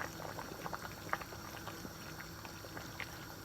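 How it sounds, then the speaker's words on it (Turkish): Black cabbage stew thickened with cornmeal boiling in a pot, a steady low bubbling with soft pops and occasional louder blips, close and fairly quiet, with no voices. "Bu şekilde de bir 10 dakika kadar kaynatacağım"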